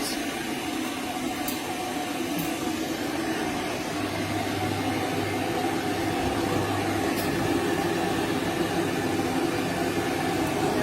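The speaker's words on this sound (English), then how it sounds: "My dryer, for some reason, is a little uneven." A dog grooming dryer blowing steadily during a poodle's bath and fluff, a constant airy whoosh with a low motor hum that holds at an even level throughout.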